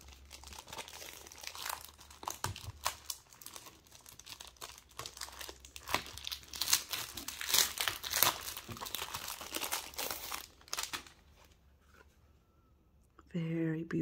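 A crinkly plastic pack of chipboard stickers from a thrift haul is handled, giving close, irregular crackling and rustling that fades near the end, followed by a short burst of another sound.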